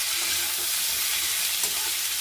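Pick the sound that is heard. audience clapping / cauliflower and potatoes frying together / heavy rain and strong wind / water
cauliflower and potatoes frying together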